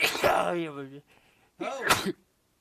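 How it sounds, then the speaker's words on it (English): A man lets out two loud sneezes in a row, each a sharp voiced burst with a breathy build-up and a short quiet pause between them, heard up close and alone. "Gotta sneeze."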